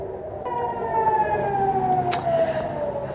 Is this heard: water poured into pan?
no